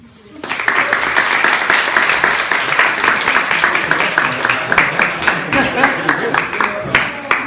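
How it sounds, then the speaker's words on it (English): An audience at a gathering breaks into sustained applause, dense steady clapping that starts abruptly and continues loud and close throughout. "So give yourselves a big round of applause."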